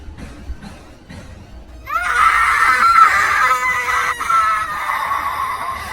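Shrill creature scream from a shape-shifting spirit in a horror story, bursting in abruptly after a quiet start and holding loud, wavering and piercing for several seconds before trailing off.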